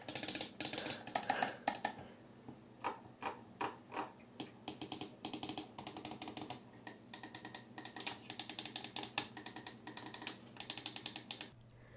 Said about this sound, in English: The buttons are clicky and they feel pretty nice when you click them.